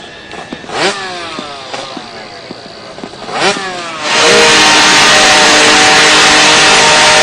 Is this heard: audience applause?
no